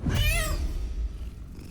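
A cat in the video game Baldur's Gate lets out a single clear, rising-then-falling meow, close and fairly loud, trailing off into quiet game ambience.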